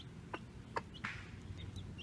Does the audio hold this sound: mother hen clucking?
yes